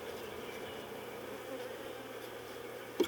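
Honey bees buzzing during a first hive inspection, a steady low drone of many insects that holds the whole time at moderate level, with one brief sharp knock right at the end and no voices.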